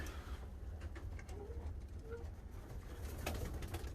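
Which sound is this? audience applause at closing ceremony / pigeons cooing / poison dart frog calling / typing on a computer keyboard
pigeons cooing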